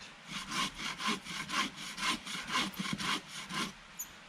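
A hand saw cuts through dead wood while felling in the bush, with about eight regular back-and-forth strokes, each a rasping push close by, the rhythm steady until it stops.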